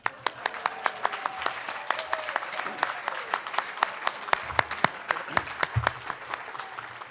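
An audience at a journalism hall of fame induction ceremony applauds steadily, with many individual hand claps scattered densely across the hall at moderate, slightly distant loudness.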